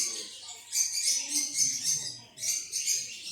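Several pet store birds, including green-cheeked conures and an Alexandrine parakeet, chirp and tweet in high, rapid bursts nearby, with brief pauses between clusters and faint low background murmur.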